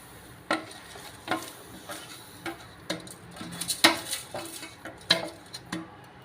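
Sesame seeds being stirred into hot jaggery syrup in a pan, giving a series of soft, irregular scraping ticks and taps close by, with no voices.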